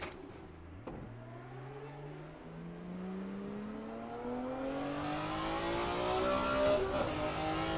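A historic race car in Assetto Corsa, driven around a recreated Monaco Historique circuit, accelerates hard, its engine note climbing steadily and growing louder over several seconds of continuous revving.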